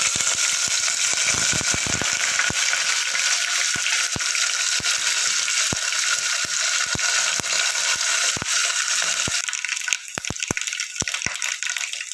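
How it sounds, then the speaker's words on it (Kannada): Mustard seeds, cumin, garlic and curry leaves sizzle in hot oil for a tempering, a loud continuous hiss with sharp pops and crackles scattered throughout, crowding together near the end. "ಈಗ ಇದಕ್ಕೆ ಸಾಸಿವೆ, ಜೀರಿಗೆ ಮತ್ತು ಬೆಳ್ಳುಳ್ಳಿ, ಕರಿಬೇವು ಹಾಕ್ತಾಯಿದ್ದೀನಿ ನೋಡ್ರಿ"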